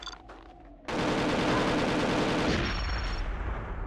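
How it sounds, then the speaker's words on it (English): Dense automatic gunfire and explosions from the video game Agent 64 erupt suddenly after a quiet moment, then continue as a loud, sustained rattling barrage. "I was looking at them explosions."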